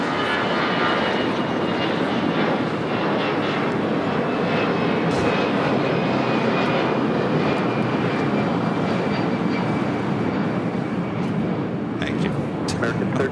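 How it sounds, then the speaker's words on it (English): Boeing 767 jet airliner taking off at LAX, a steady broadband engine roar held at constant loudness throughout, with a background voice talking over it. "It's a 767."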